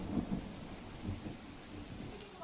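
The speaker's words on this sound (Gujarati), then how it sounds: "સુરત શહેરમાં આજે વહેલી સવારથી જ ધોધમાર વરસાદ જોવા મળી રહ્યો છે" Dense, torrential early-morning rain falls steadily over Surat city with a broad hiss, joined by a low rumble of distant thunder, no voices present.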